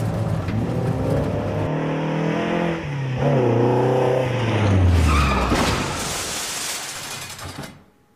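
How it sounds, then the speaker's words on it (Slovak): An old Toyota Celica rally car tears through a Finnish rally special stage, its loud engine climbing and dropping through the gears, then fading away at the end. "To je rally auto."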